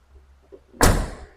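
A Chevy Squarebody crew cab truck door slams shut once with a loud, solid thunk after a brief quiet moment, close by and without talking.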